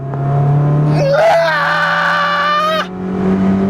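A Mazda Miata engine revs hard under full throttle on a hot day, a loud rising drone that climbs in pitch for about two seconds before dropping off, heard from inside the car.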